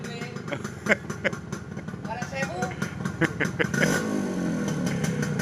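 Motorcycle engine running at a used-motorbike dealer, a close putter with sharp rhythmic pops that swells to a steadier rev near the end, with people talking over it.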